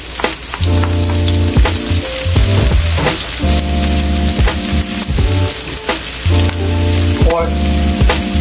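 Onions sizzle and crackle steadily in a hot pan for fried rice, loud and close, with repeated scraping stirs breaking the frying noise and no talk.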